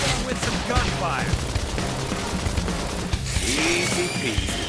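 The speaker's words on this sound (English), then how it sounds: "Topple him with some gunfire!" Rapid bursts of gunfire in Xenoblade Chronicles X crackle over a busy mix of combat effects, with voices speaking throughout.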